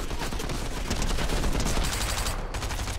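Rapid gunfire from a Fortnite duel rattles on for the whole stretch, dense overlapping shots packed close together and loud, with no voice over it.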